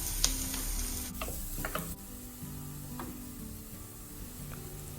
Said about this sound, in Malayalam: പിന്നെ 1/2 കപ്പ് സവാള അരിഞ്ഞത് ചേർത്ത് കൊടുത്ത് നന്നായിട്ടൊന്ന് വഴറ്റുകയാണ്.